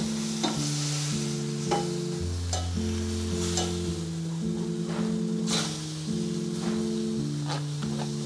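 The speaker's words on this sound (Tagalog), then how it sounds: "Ngayon ay hahaluin natin." Oysters are stirred into bubbling adobo sauce in a pan, with repeated close scraping strokes over a steady sizzle and a low background music bed throughout.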